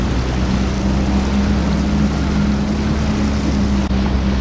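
Motorboat on the ocean off a crowded beach at Long Beach, a steady low engine drone with wind and water noise filling the whole stretch, no talking.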